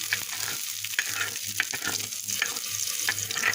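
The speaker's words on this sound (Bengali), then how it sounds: "পেঁয়াজ রসুন পাঁচফোড়ন দিয়ে এই যে ফোড়ন দিয়ে দিলাম" Onion, garlic and five-spice seeds pop and sizzle in hot oil as a dal tempering is poured in, with a crackling hiss and a few spoon scrapes, close and steady.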